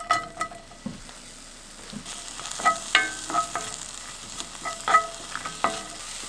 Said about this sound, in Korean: 프라이팬에 놓고 기름을 살짝 뿌리겠습니다. 약한 불에 대파를 올려줍니다.